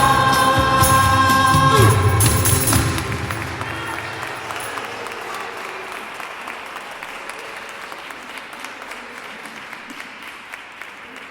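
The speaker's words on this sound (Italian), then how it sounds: "Un applauso" Audience applause at a live Epiphany concert. It starts loud and dense while the final notes of the music ring out, then continues steady and softer for several seconds with individual claps audible.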